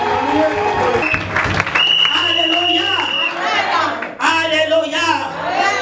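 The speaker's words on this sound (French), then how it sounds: "On acclame Jésus" A church congregation at a Gabon crusade applauds and cheers for Jesus, clapping and crowd noise mixing with loud voices and shouts throughout.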